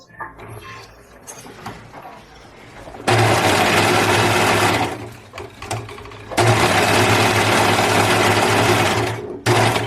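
A sewing machine stitches elastic onto the waistband of easy trousers, running in two loud sustained bursts with a steady whirring hum, separated by quieter handling noise and faint rustling.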